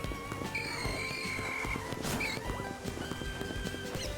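Horse sounds in a video game: steady clip-clop hoofbeats and a couple of short whinnies, moderately loud and continuous, with no talk.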